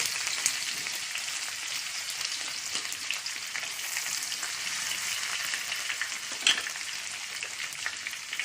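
Finely chopped green chillies and ginger with curry leaves frying in a pan, a continuous even sizzle at moderate level with one brief louder clink near the end.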